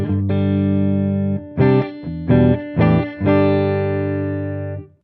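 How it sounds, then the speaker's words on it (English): An electric guitar played through a Headrush MX5 with an impulse response and reverb rings out in sustained chords, a long held strum followed by short choppy stabs and a final ringing chord that slowly decays. "here's the sound with my guitar going into the IR and the reverb and no other effects"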